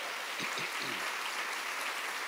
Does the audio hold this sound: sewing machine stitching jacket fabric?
no